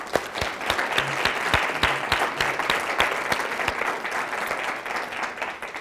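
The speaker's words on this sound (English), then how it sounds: "I'd love to give them a round of applause." Audience at a school district safety and security meeting gives a round of applause, steady dense clapping with a few sharp nearby claps standing out, continuous throughout.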